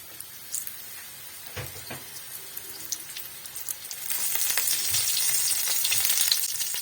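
Flour-coated chicken frying in a wok in a home kitchen, with a soft crackle and scattered clicks at first, then a louder, steady sizzle that swells and holds for the last few seconds.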